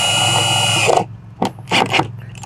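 A power drill driving screws into a low profile box on a boat, a loud whirring run that stops abruptly, followed by two short bursts of drilling after a pause, heard close up with no talk.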